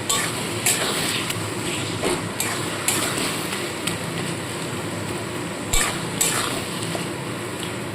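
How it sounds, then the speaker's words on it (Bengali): Ginger, garlic, onion and green chilli paste sautés in a pan with a constant low sizzle, punctuated by a handful of sharp spoon knocks and scrapes against the metal. "দিয়ে খুব ভালো করে কষাবো যতক্ষণ না এর কাঁচা গন্ধটা যায়"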